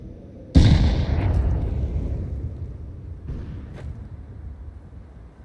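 A grenade detonates in Counter-Strike 2, a sudden loud close blast followed by a long rumbling decay, with a fainter second thud a few seconds later.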